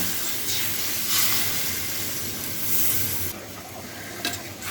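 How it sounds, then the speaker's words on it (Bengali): Chicken roast with milk is stirred in a pan, producing a wet bubbling sizzle with repeated scraping strokes of the spoon, close and continuous with no voices. "এবার হচ্ছে নেড়ে ফেড়ে সব একসাথে মিশিয়ে নেব"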